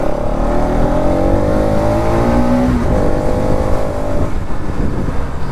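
A Bajaj Pulsar NS 200 BS7 motorcycle engine revs loud and close, its pitch rising steadily, dropping, then climbing again over a constant rumble.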